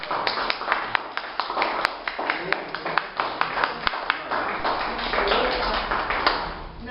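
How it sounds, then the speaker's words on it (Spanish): Audience applause after a talk on Venezuela's energy sector, a dense crowd clapping steadily for the full length with crisp individual claps standing out, moderately loud, with no speech over it. "Un aplauso."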